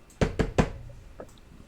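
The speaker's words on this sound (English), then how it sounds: "y'all hear a knock at the door" Three firm, evenly spaced knocks land on a house's front door, close and sharp, followed by a couple of fainter taps.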